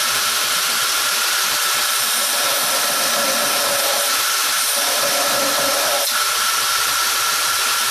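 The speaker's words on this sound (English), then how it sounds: "going to end up grinding off one side more than the other" A bench grinder wheel grinds the profile of a knife blade, giving a loud, steady, high-pitched abrasive whine that runs unbroken throughout.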